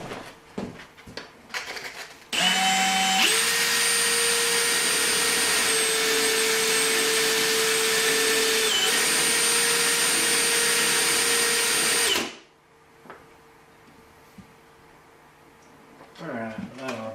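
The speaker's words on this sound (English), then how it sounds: "Here's just 220 grit sandpaper." Sanding with 220-grit sandpaper during a Kibler Woodsrunner rifle fit-up: a loud, steady motorized whir starts abruptly and runs about ten seconds before cutting off, with light knocks and handling noises before and after.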